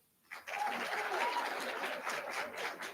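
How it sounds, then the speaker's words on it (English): An audience at a health program unveiling breaks into sustained applause, a moderate crowd clapping steadily from a short distance after a quiet start. "All right, clap for them."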